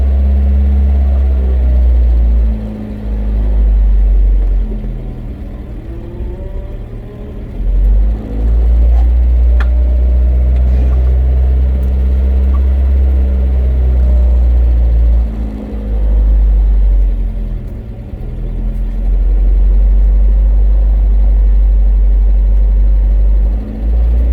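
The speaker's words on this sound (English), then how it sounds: "Idling a lot faster than it should" A Datsun engine, just back together after a carburetor rebuild, idles high and fast with a steady, loud, deep drone that dips briefly now and then, running on its own without talk.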